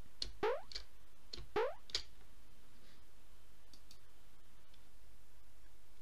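Two springy cartoon video game character jump sounds, each a quick rising boing with a click, about a second apart, then quiet room tone.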